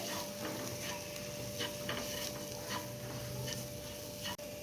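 A spoon stirs coriander powder into palak paneer in a pan, giving quiet scraping and light ticking taps over a soft, low sizzle at close range.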